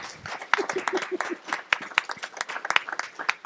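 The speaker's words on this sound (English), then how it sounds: "Now it's time to applaud." Audience at a candidate forum clapping, a modest group of hands producing sharp, uneven claps close by, with a few individual claps standing out.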